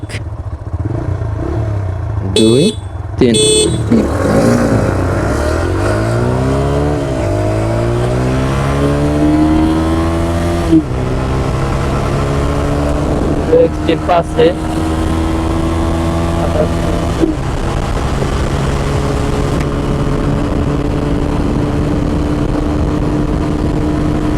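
TVS Raider 125 and Hero Xtreme 125R motorcycles race side by side toward a pole, their engines loud and close, revving up through the gears with repeated rising whines and shifts over about twenty seconds.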